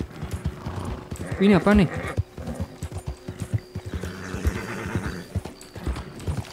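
Horse or donkey hooves clip-clopping in Red Dead Redemption 2, with an animal whinny rising briefly near the middle, under a voice speaking.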